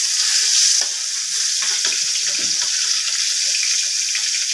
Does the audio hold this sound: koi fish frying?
yes